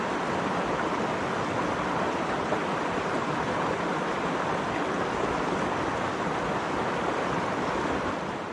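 Mono Creek flows beside a trail camp near a bridge in a steady, even broadband rush of water that holds constant and fairly soft the whole time, with no voices.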